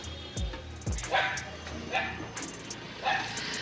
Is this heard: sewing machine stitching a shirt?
no